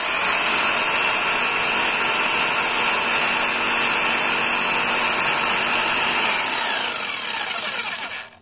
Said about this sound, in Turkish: Şimdi dekopaj testerimiz burada çalışırken burada hava üfleyicisi var.